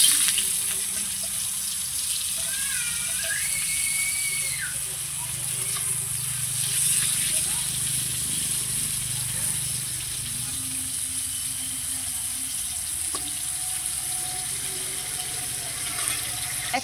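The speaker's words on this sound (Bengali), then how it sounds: "উচ্ছেগুলো এবার তেলে একটু ভেজে নেব।" Bitter gourd fries in hot oil, a steady close sizzle that runs the whole time under a voice speaking.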